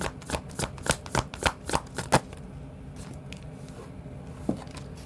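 Tarot cards are shuffled in a quick run of about eight crisp riffling bursts, close and clear, then a few softer taps and settling sounds.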